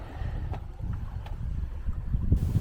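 A sailboat glides across calm Mediterranean water on its way to Cartagena, with low, rumbling wind buffeting the microphone and a faint wash of the sea, and no voices.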